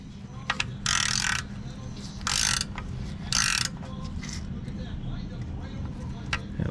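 Ratcheting clicks and metallic mechanism sounds from tightening a cap during an oil change on a 2017 Toyota Highlander, close by, in several short bursts over steady background noise.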